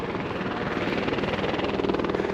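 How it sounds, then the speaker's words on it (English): A tour helicopter flies over the Grand Canyon, its steady rotor thump and engine drone filling the air continuously, loud and fairly close, with no talking. "helicopter going in the background."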